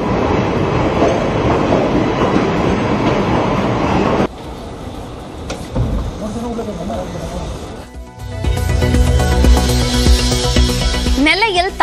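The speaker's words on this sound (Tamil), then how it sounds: "தண்டவாளத்தில் நீர் வடிந்த நிலையில் 3 நாட்களுக்கு பிறகு ரயில்கள் இயக்கம்" A train rumbles along railway tracks in Tamil Nadu after floodwater drained, with steady rolling noise, easing off midway before loud rumbling and clatter build again; voices may be faintly mixed in.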